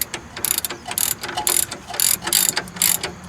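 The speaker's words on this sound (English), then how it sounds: "Using that same 18 millimeter, I'm gonna find those flats and tighten it down" An 18 mm ratchet wrench tightens a sway bar link nut on a 2010-2013 Nissan Rogue, with bursts of rapid pawl clicking in steady repeated strokes, close and fairly loud.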